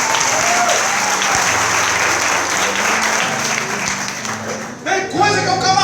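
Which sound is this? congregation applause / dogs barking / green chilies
congregation applause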